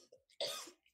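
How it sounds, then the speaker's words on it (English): One sharp, close cough bursts out after a few faint breaths, short and harsh, with quiet murmurs before and after it. "Excuse me, I have a cough."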